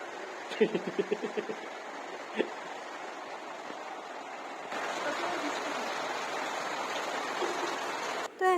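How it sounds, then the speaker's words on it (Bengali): Heavy rain pours down as a broad, steady hiss that thickens and grows louder partway through, with a few brief sharp knocks and a faint voice early on. "এদিকে বৃষ্টিও হচ্ছে প্রচুর"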